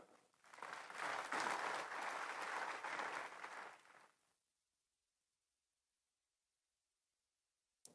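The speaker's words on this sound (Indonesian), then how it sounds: "Boleh kalau mau tepuk tangan." A church congregation at a worship service breaks into applause, building over a second to a full, steady clapping that fades out after about four seconds into silence.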